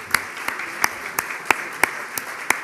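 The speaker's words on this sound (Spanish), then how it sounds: "por favor, un aplauso para todos ellos" Sparse, fairly faint applause from an audience honoring senators at a Uruguayan marketing association event, with a handful of distinct claps landing at a slow, steady pace over a soft room murmur.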